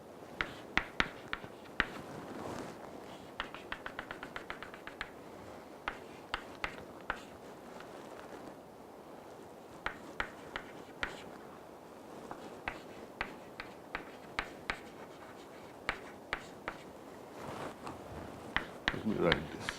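Pen or marker strokes writing and sketching equations by hand, a quiet stream of scratchy taps and short scrapes throughout, close and faint under a lecturer's talk about aircraft handling qualities.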